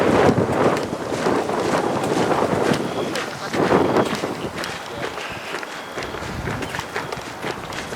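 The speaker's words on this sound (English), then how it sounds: "It's definitely windy out here." Gusty wind at night at Fort Mifflin, roaring and buffeting the microphone in broad continuous bursts, with voices and footsteps faintly mixed underneath.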